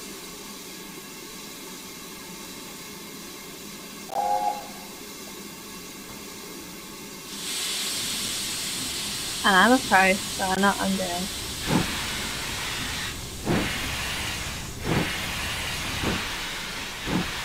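The steam locomotive Camelot pulls away in Train Simulator 2017, releasing a sudden loud rush of hissing steam that keeps going, followed by sharp whistle-like blasts and regular chuffs, with someone talking briefly before it begins.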